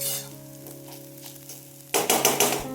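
Onion fries in oil until reddish, a soft steady sizzle that swells into loud bursts of stirring and crackling near the end, with no voices.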